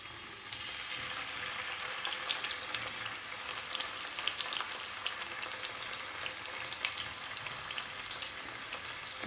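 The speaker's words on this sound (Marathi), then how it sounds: "आता आपण हे सर्व चिकनचे पीसेस या फ्राईंग पॅनमध्ये ठेवूया." Chicken pieces sizzle in 3 to 4 tablespoons of hot oil in a frying pan, giving a steady close crackle with scattered sharp pops throughout.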